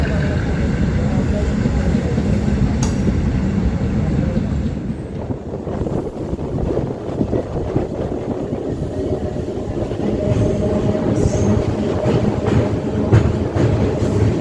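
An express train rushes past close by near the Mahananda Wildlife Sanctuary in the Dooars: a loud, continuous rumble and rattle of wheels on track, with wind buffeting the microphone throughout.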